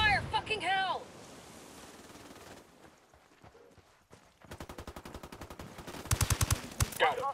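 Gunfire in Ghost Recon Wildlands, fast rattling automatic bursts mixed with a voice talking at the start and a snappier volley near the end, moderately loud against quieter background ambience.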